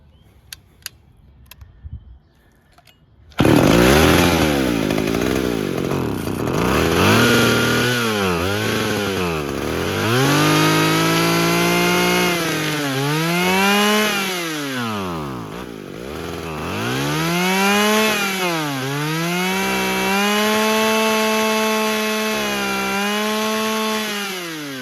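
A curb-found chainsaw running on choke starts with a sudden loud roar after a few faint clicks, then holds a rough, uneven engine drone whose pitch surges and sags repeatedly as the throttle is worked, close and unbroken for over twenty seconds.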